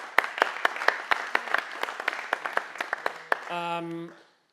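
A small group clapping in a sparse, uneven rhythm, individual claps distinct, ending with a short tonal beep before silence.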